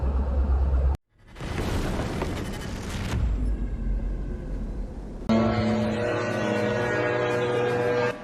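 Explosions from a drone attack on the city of Bryansk, Russia, heard as several loud, heavy booms and rumbling blasts separated by brief gaps, with a sustained roar and tonal hum in between.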